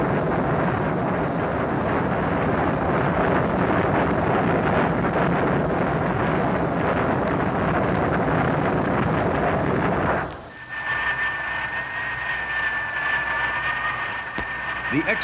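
A Curtiss-Wright rocket motor for the X-2 roars on a ground test stand, a loud continuous blast for about ten seconds before cutting abruptly to a quieter hum with a steady whine.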